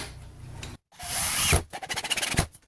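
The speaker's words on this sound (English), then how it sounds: "Now I've drilled this screw into the worktop to make my centre mark for the ring." Power drill driving a screw into a wooden worktop, a short whirring buzz that cuts out, then a longer rising grind with a rapid chattering rattle toward the end, close and fairly loud.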